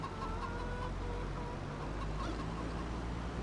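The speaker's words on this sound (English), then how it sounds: "You're running over my chickens" Chickens clucking in Farming Simulator 25, a steady barnyard murmur of several hens with scattered clucks running continuously underneath, fairly quiet and close, with no talking.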